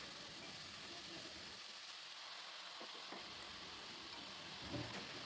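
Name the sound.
potato and brinjal being fried and stirred in a pan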